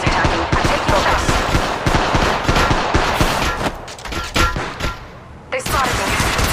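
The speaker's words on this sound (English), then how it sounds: "They're shooting at me." Heavy gunfire in Apex Legends, with rapid bursts of automatic weapon fire and overlapping shots in close, dense volleys, briefly thinning before a loud burst resumes near the end.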